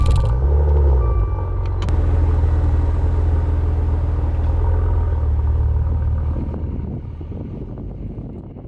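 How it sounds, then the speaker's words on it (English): A car engine runs after being started, a loud steady low rumble with some wind noise that eases slightly toward the end. "Turn on the car again."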